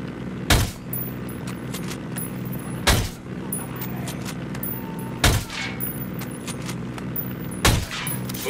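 Gunfire in the Tom Clancy's Ghost Recon video game: four loud, sharp shots or short bursts spaced a couple of seconds apart over a steady background rumble.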